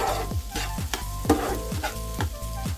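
Egg bhurji sizzles in a hot pan while a spatula scrapes and stirs in quick, regular strokes, close up with no talking.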